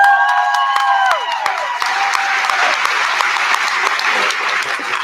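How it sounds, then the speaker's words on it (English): Audience applause at a high school senior honors night, steady dense clapping filling the room after a brief tone fades at the start, loud and sustained with no talking. "we've got to give a big round of applause to Miss Tina Roy"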